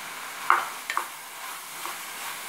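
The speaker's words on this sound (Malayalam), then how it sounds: "നന്നായി ഒന്ന് മിക്സ് ചെയ്ത് കൊടുക്കാം." Chicken curry with chopped tomato being stirred in a pan, giving a few soft scraping and clinking strokes over a faint background sizzle, with no talking.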